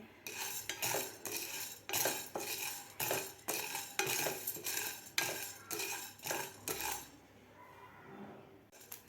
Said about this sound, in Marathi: आपल्याला साबुदाणा भाजून घ्यायचा आहे. साबुदाणासुद्धा व्यवस्थित आपल्याला खरपूस असा भाजून घ्यायचा आहे.